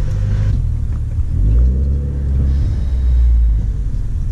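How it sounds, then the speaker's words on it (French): Renault RS Trophy engine revving with a deep, steady rumble that swells and eases, close and loud with no voices; the exhaust crackles are not distinct. "au niveau des craquements, je trouve que c'est plus prononcé sur la tienne"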